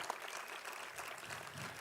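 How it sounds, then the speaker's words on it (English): An audience claps steadily for keynote speaker Billy Mills at a Crazy Horse Memorial Foundation gathering, a dense, even wash of applause with no voices over it. "Let's give Billy Mills a round of applause"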